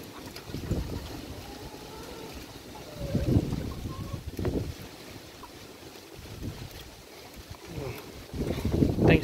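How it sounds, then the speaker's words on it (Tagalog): Strong typhoon wind gusts buffet the microphone on a farm in the Visayas, rising in loud rumbling bursts that come and go over a steady roar. "Malakas yung hangin, buti ngayon hindi na maulan."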